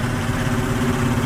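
A motorcycle used to haul sand for a mosque construction site idles steadily, a continuous loud low engine hum with no talk heard over it.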